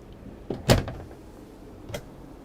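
Deep drawers across from the bed in a Tiffin Phaeton 40QKH motorhome slide open with a soft thud and a brief rattle, followed by a faint second knock, close and quiet.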